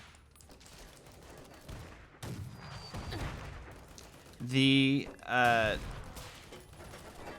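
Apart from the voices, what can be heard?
fireworks cannon firing in Fallout: The Frontier video game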